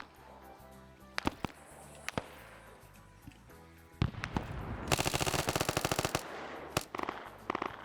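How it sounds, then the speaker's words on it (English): Rifle grenades bursting among automatic gunfire in a Vietnam War video game: scattered sharp blasts early, then a dense, loud rattle of rapid fire in the middle and more isolated shots near the end, with background music underneath. "I'm hearing rifle grenades going off as well"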